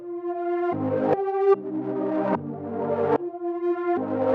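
A reversed, pitched-down synth chord progression swells upward in loudness toward each abrupt cutoff, several chords in a row, loud and alone with no speech.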